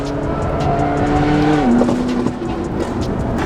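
Lamborghini Aventador or McLaren sports car engine roaring loud and close, a sustained high-revving howl that drops in pitch partway through, with no talk.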